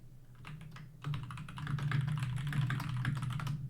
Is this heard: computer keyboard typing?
yes